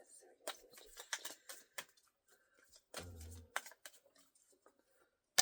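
Oracle cards are shuffled by hand in short papery riffles and shuffles, with a denser burst midway, while a person talks quietly between the bursts.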